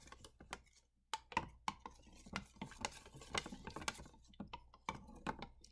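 A spoon stirring iodine into a starch mixture, giving quiet, irregular clinks and taps against a container, fairly close and soft throughout.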